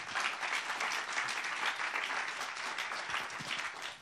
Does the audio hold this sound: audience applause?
yes